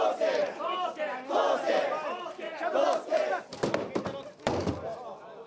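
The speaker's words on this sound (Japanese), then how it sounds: "掛け声とともに豪快に神輿を転がします。" A crowd chants in loud rhythmic unison at the Mikoshi Makuri shrine festival in Kiso, Fukushima, as a nearly 400 kg portable shrine is rolled, then two heavy wooden thuds crash in near the end.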